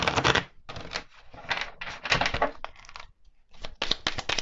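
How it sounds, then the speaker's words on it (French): Tarot cards shuffled and handled close up, giving crisp, irregular clacks and riffling bursts separated by short pauses, with no talk. "Je suis désolée pour les claquements des cartes."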